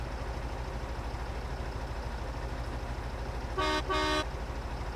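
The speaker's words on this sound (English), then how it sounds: "And I do like the horn." A truck horn in Farming Simulator gives two short honks late on, near and loud, over a steady low engine drone.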